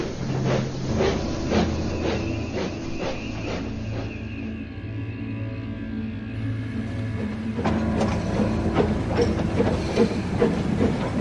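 A steam engine runs along the tracks in reverse, giving a continuous rumbling clatter with rhythmic wheel clicks and hissing, loud and close throughout.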